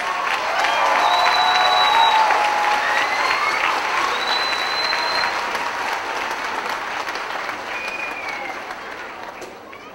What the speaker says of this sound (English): Let's give a round of applause to all of the MPP graduates